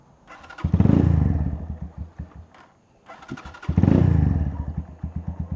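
A Keeway Cafe Racer 152 motorcycle engine cranks and catches twice on a cold start, each time revving up loudly then settling into a rough, pulsing idle close by.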